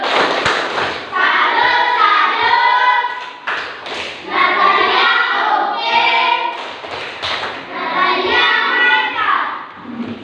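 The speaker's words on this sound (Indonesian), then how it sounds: "Tepuk salut." A school class performs the rhythmic 'tepuk salut' clapping routine, bursts of patterned claps and thumps mixed with children's chanting voices in loud, close phrases.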